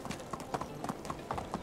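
Horse hooves clip-clop at a brisk riding pace in the medieval game Medieval Dynasty, a quick run of crisp hoofbeats in an even rhythm, heard fairly faintly and with no talking.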